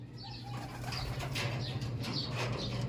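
Racing pigeon arriving at its loft, a close, brief flurry of wing flaps with a few soft rustles and faint bird sounds over a low, steady background hum.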